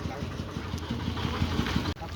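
A motorcycle engine idles close by in a temple bike-parking area, a low, steady putter that holds for about two seconds before cutting off abruptly.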